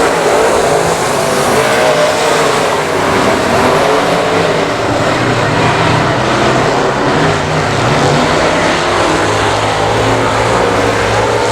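Race cars roar around the I-37 Speedway in a steady, loud wash of engine noise, with a 22T car moving up on the outside to take the lead on the first lap.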